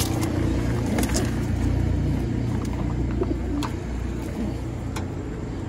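Pigeons, a hen and a cock, cooing softly under a steady low rumble, with a few sharp chirps and clicks scattered across the clip and no talking.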